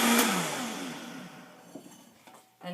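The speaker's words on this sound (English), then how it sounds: "I put it back on the blender for just a minute" A countertop blender whirs through a short final pulse of homemade almond milk, loud at first and winding down over a couple of seconds, with a few small clicks and knocks after the motor fades.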